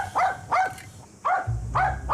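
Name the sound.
dog barking on a building site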